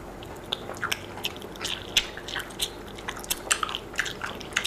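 Honeycomb being chewed close to the mic: a run of sharp, wet, sticky crunches and bites at an uneven pace, fairly quiet, with no voices.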